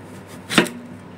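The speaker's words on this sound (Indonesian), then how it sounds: "potong segini-segini ya" A single sharp knife chop through an eggplant strikes a cutting board once, brief and close, with quiet surroundings before and after.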